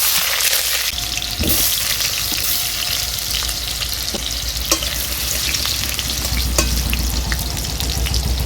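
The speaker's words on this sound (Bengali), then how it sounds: "আলুটাকে ভালো করে ভেজে নেব।" Potato pieces fry in hot oil in a wok, giving a steady, loud sizzle that continues without a break and has occasional stirring scrapes.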